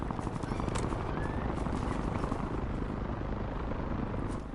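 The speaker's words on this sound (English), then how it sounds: "Choppers are going low" Helicopters flying low over an island in the video game Warzone Resurgence, a dense steady rotor thrum and whine holding at constant loudness with no pauses.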